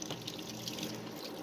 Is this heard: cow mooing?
no